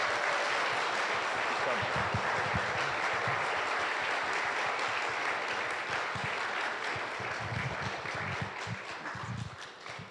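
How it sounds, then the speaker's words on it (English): Audience applause at a closing ceremony, a loud dense wash of many hands clapping that holds steady for several seconds before gradually thinning toward the end. "Let's give him one more round of applause."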